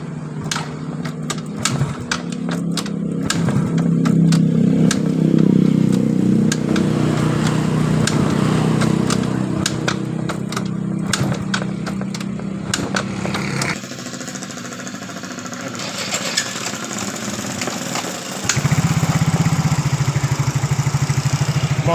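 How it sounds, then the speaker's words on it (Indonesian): A Yamaha Mio J scooter that had been stalling while riding is kick-started after carbon buildup was cleared from its combustion chamber. Rapid clattering cranking is followed by the small engine catching and settling into a steady idle, up close with no talk. "Motor langsung hidup dengan normal"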